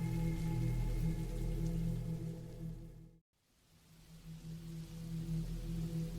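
Steady rain falling, a continuous hiss with a low background hum, briefly cutting to near silence midway before the rain fades back in and carries on evenly.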